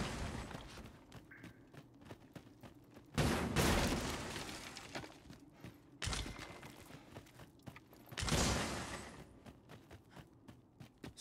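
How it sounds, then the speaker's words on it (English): Explosions in Dragon's Dogma 2, two loud booming blasts a few seconds apart, each decaying into rumble, over quieter scattered impacts and footstep-like clatter. "So many explosions"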